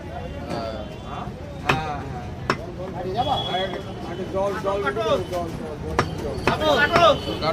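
A butcher chops desi goat mutton into pieces, with sharp cleaver strikes landing irregularly under nearly continuous conversation in a busy meat stall.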